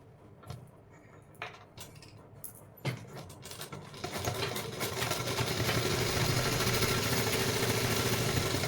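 An electric sewing machine stitches along the curved edge of a pair of ladies' pants. It begins with a few scattered clicks and handling knocks, then settles into a continuous mechanical whir that builds and runs steadily to the end.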